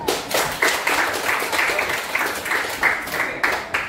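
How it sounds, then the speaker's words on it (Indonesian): Students in a classroom clap their hands together in a quick, roughly rhythmic burst, individual claps audible as sharp separate hits rather than a blended roar, fairly close and moderately loud. "tepuk tangan"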